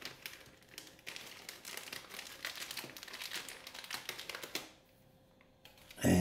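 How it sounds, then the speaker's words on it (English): Close, crisp crinkling of a plastic bag wrapping a carbon fibre tripod being handled, a busy rustle that runs for several seconds before falling quiet. "it's wrapped in a plastic bag"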